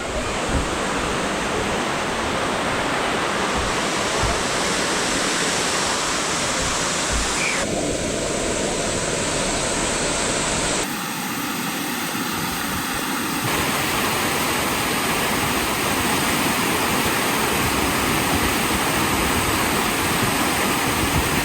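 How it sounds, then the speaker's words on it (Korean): Continuous roar of a waterfall in a valley near Busan, Daecheong Valley in Jangyu, Gimhae, a dense, steady rush of falling water heard up close with no pauses. "폭포 그때보다는 물이 많이 줄었네요"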